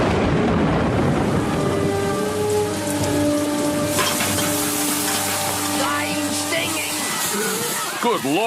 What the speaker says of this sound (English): Good Lord, acid rain!